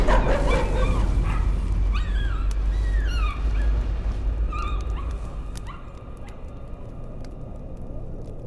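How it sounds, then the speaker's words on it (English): A dog in the horror game Layers of Fear yips and whimpers in a series of short, high, whining cries over a steady low rumble, with a few sharper barks, fairly close and loud before fading to quieter whines. "Nice doggy. Don't kill the doggy."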